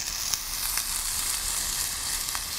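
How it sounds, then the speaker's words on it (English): Chopped onion sizzling in a hot pan for a Sicilian pasta sauce, a steady bright hiss with a few small pops and crackles, close and continuous with no talking. "now we're going to go ahead and add our onion in there"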